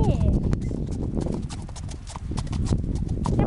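Pony hooves clip-clop steadily through a dark, rainy night ride, with riders talking over the hoofbeats and an occasional whinny.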